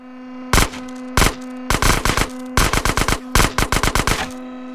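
Rapid bursts of gunfire in the video game GTA San Andreas over a steady electronic hum, single shots at first, then quick rattling volleys, loud and close.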